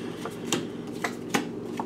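Soft riffling and slapping of cards being shuffled, a few distinct sharp snaps spaced through the short clip, with no talking.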